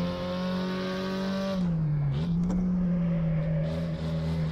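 A Porsche 356 Coupé engine lugging at low revs in second gear, a steady deep drone close by that dips briefly and then settles back, with no talk.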